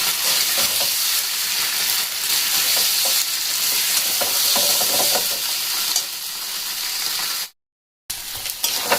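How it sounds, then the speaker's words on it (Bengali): Boiled potatoes fry in a pan for a Kashmiri-style aloo dum, a loud close sizzle with constant stirring scrapes that cuts out briefly near the end before resuming. "আলুগুলো দেখুন একটুখানি ভাজা ভাজা হয়ে গেছে"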